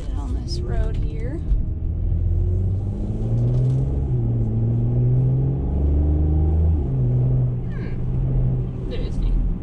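A 2018 Mercedes-Benz GLE43 on the road, its engine rumbling low and rising in pitch through a few gear changes as it accelerates, heard from inside the cabin alongside a voice.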